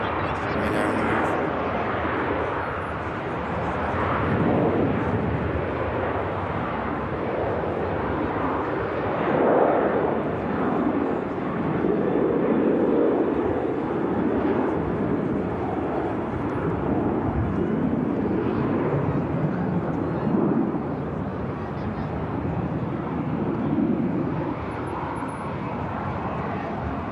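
A Canadian Air Force Hercules arriving at an airport produces a continuous loud, broad propeller-engine roar that swells and holds steady for the whole stretch, with a voice talking underneath.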